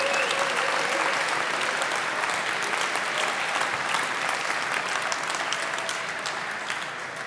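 Steady, dense applause from an audience at a blockchain hackathon award show, cheering the competing teams, loud and sustained for several seconds before tapering slightly at the end, with no talk over it.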